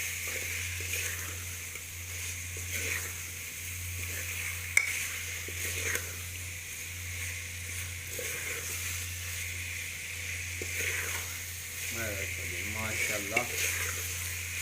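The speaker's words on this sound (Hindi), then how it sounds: "अच्छी तरह मसाले मिक्स कर लेंगे।" Potatoes tossed with spices in a frying pan for village-style achari aloo give a steady low sizzle with scattered scrapes of stirring, and a few louder clinks and scrapes come near the end.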